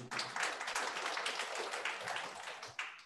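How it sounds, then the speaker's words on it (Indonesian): A congregation claps together during an Easter church service, producing a dense burst of applause that stays fairly steady and then tapers with a final flurry. "Tepuk tangan dulu buat Tuhan."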